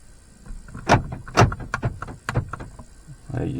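Car doors closing and locking, a series of solid thumps and short mechanical clunks at close range, uneven in rhythm and separated by brief quiet gaps, with no talking.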